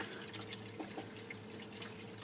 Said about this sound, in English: It will just trickle around the outside of the pipe